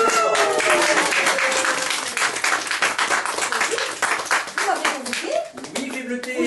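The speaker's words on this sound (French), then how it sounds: "On l'applaudit." Studio audience of children applauding a guest on a French television show, brisk crowd clapping loud and close at first, then thinning into scattered claps while voices and chatter rise over it.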